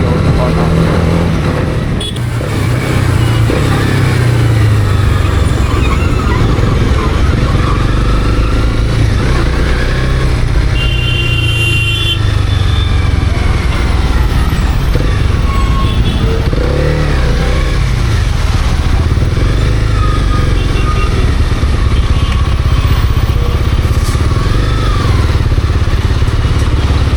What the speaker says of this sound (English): So here is the city traffic.